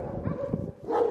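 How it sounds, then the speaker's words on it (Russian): A service dog at a working-dog kennel complex barks a few times in quick succession, close and moderately loud, with short yips between the louder barks. "Когда собака лает, это знак внимания ее или она просто хочет полаять?"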